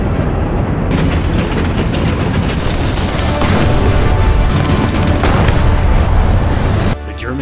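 German and American tanks clash in a War Thunder recreation of the Battle of Bastogne: a dense, loud rumble of engines mixed with booming cannon blasts, cutting off abruptly near the end.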